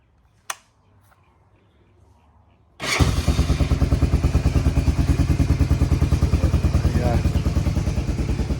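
An old Honda Fourtrax 300 ATV is quiet apart from one sharp knock, then its engine catches and settles into a loud, close, steady rapid putter at idle.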